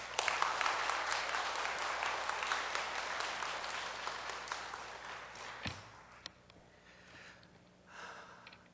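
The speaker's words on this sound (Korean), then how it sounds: "우리 나올 때 박수 한번 하겠습니다" A church congregation claps steadily and densely for several seconds, then the applause thins out and fades into a quiet room with a few scattered sounds.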